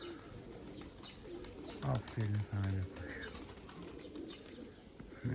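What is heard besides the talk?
pigeons landing and cooing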